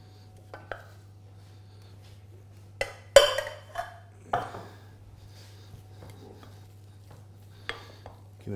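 A fishcake mixture of leek, parsley and chive is scraped and tipped into a bigger bowl, giving a few sharp, separate clinks and knocks of utensil on bowl over a low steady hum in a quiet kitchen.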